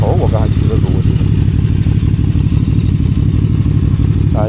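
A QJMotor Flash 600 V4 motorcycle engine idles close by with a steady, rapid low thrum and even pulsing throughout, while a voice speaks briefly at the start and end.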